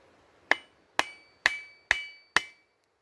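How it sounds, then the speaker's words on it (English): Five sharp hammer strikes land at a steady pace on the bottom of a wooden axe handle, each a bright, ringing knock that decays quickly, with quiet between blows. "hammer the bottom of the axe handle and the axe head moves up"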